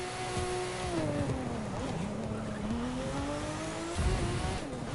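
A Porsche 935 race car in The Crew 2 on a final stretch: engine held at a high, shifting whine with tire squeal, loud and continuous, with a brief word spoken at the start.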